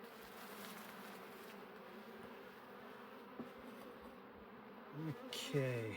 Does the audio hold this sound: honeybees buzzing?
yes